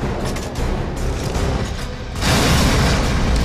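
An explosion blasting a breach through a roof in the video game Gears of War 3, a heavy booming burst that swells into a loud, sustained roar of debris and noise.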